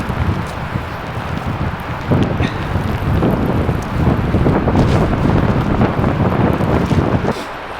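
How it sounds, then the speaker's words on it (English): Strong wind roars steadily during an ice blizzard at a ski stadium, buffeting the microphone with loud, continuous gusts that surge and swell throughout. "Hope you can hear what I'm saying in this wind."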